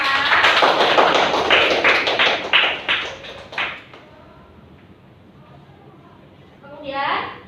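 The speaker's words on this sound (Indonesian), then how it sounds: "Saya tepuk tangan buat kita semua." A classroom of students clapping hands together, a burst of rapid claps for several seconds that thins out and fades, followed by a brief voice.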